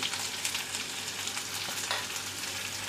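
Curry leaves, onion and finely chopped chili sauté in hot oil with mustard seeds and cumin, making a steady, moderately loud sizzle with faint crackles, free of voices.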